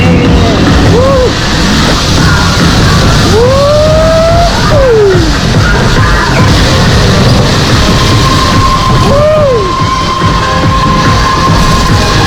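A dry ride at an amusement park runs in a loud, continuous rumble with metallic squeals and sliding tones over it, heard up close and steady for the whole stretch with no clear talk.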